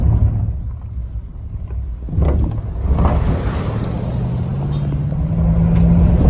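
A Border Patrol truck drives past outdoors, its low engine rumble rising and then fading over several seconds, with a steady tonal drone and gusty wind buffeting the microphone.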